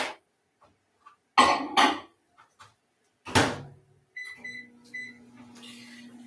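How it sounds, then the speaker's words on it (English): Kitchen clatter and a door thump, then a microwave oven hums steadily with a few short beeps over it while melting candle wax. "pop this into my microwave real quick and let that melt"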